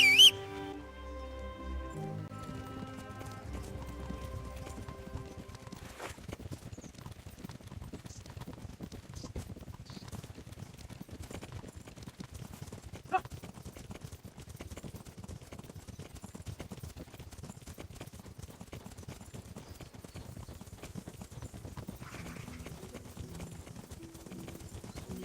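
A horse's hooves clip-clop steadily on a road while riding in the medieval game Kingdom Come: Deliverance, a long, even trot at moderate volume after a brief opening sound, with no talking.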